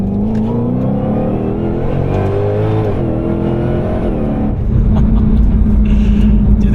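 Ford Shelby GT500 S550 engine revving: loud, deep V8 rumble with rising and falling engine tones, building into a heavier, steadier roar toward the end.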